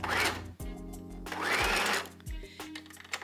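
A sewing machine stitches a hem in close bursts of rapid mechanical whirring, stopping and starting as it runs forward and backs up to lock the seam.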